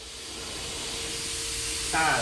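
A metal cutter slices through a metal piece, giving a steady, moderately loud hiss with a faint whine that swells louder near the end; no talking is heard.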